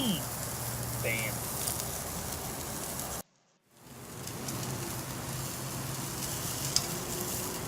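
Fat on grilling meat sizzles in a steady broadband hiss, cut by a brief silent gap partway through before the crackle resumes at the same even level.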